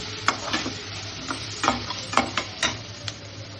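Cinnamon, cloves, bay leaf, onion and ginger-garlic paste frying in hot oil for a mushroom and radish curry, with a steady sizzle broken by repeated sharp scrapes and stirs of a spoon against the pan, close and fairly quiet.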